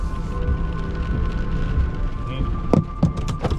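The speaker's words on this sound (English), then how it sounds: "Yeah, it's raining a lot." Heavy rain falls outdoors in a parking lot as a steady, dense hiss, with a few closer knocks and clatters near the end.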